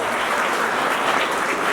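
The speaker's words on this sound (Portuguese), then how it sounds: "Uma salva de palmas para eles" Steady applause from wedding guests honouring the caterers and other suppliers at a reception, dense and continuous clapping throughout with no voices standing out.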